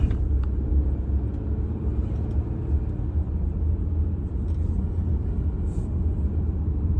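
Steady low road rumble and tyre noise from inside a car cruising slowly along a residential street in Weeki Wachee Gardens, Florida, with no talking.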